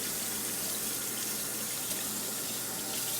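Lukewarm tap water runs from a kitchen faucet into a measuring cup while bread dough is being made, a steady close hiss and splash of flowing water throughout.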